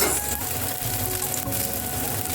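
Bread layered with topping frying in a generous amount of oil, a loud, dense, continuous sizzle up close with no speech.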